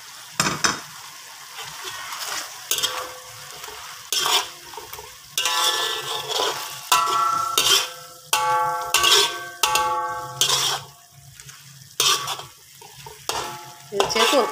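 Prawns simmer in a boiling honey masala sauce in a pan, with a spoon stirring and scraping in repeated bursts over a soft, steady bubbling sizzle, while faint tonal music plays in the background.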